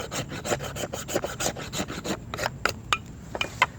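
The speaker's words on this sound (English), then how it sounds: "I'll just turn it to the other side on the edge. Get some more shavings out." A blade shaves a pine fatwood stump in repeated close, rasping strokes, a steady run of scraping pulls that later thins into a few sharper, separate scrapes.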